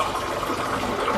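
Half a glass of water being poured at home, a steady broadband splash and trickle running continuously and close at hand for about a second, with no voices.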